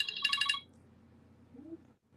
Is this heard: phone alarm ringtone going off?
yes